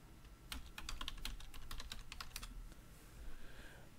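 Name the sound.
typing on a computer keyboard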